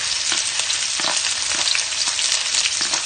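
Garlic, onion and ginger fry in hot oil with a bright, dense sizzle and crackle, close and loud, with small pops and stirring scrapes scattered through.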